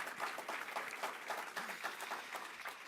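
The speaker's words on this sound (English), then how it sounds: "let's give a big round of applause to our great Governor, Kathy Hochul" Applause for Governor Kathy Hochul at a New York State airport infrastructure event, a steady patter of many hands clapping at moderate level throughout, fairly faint and distant in the room.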